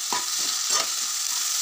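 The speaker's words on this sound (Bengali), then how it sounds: "সবজিগুলো মোটামুটি কিছু সময় ধরে ভেজে নেওয়ার পর" Chopped tomato, onion and chilli with other vegetables sizzle in a pan for egg chow mein, with a few soft scrapes of stirring over a steady close fry.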